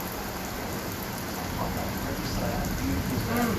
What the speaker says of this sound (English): No, just a steady rain.